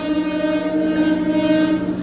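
A train at Naihati railway junction sounds a sustained, loud tonal horn or whistle over a low rumbling background, holding steady for the whole moment.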